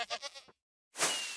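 A goat in a zoo-building video game lets out a loud, stuttering bleat in several quick pulses, then after a brief silence a harsh, noisy second cry, close and alone.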